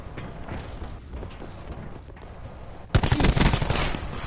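Gunfire in Black Ops 4 on the Nuketown map: after a few seconds of quieter game noise, a loud, dense barrage of rapid shots and blasts from the War Machine launcher suddenly erupts close by.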